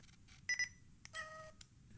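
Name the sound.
digital camera shutter sound like cat meow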